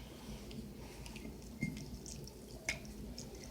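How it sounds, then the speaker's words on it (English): Fresh mandarin juice squeezed through a strainer, a few faint isolated drips falling into a cup against a quiet background, two of them slightly more distinct. "So you could squeeze the juice through a strainer."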